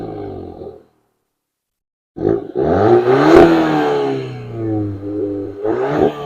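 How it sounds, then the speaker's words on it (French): A stock exhaust on a VW Golf 8 GTI Clubsport barks through a short rev, goes silent, then rises into a longer, rasping revving run that swells and falls, close by and loud. "On a deux sorties d'échappement qui sont assez mignonnes et qui ont quand même une bonne sonorité pour une ligne d'origine"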